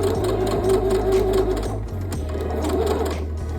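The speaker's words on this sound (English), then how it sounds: "Okay, so I'm gonna back stitch there." A sewing machine stitches steadily through a denim dress, backstitching near a pocket with a continuous close motor hum and rapid needle chatter that keeps a nearly even level throughout.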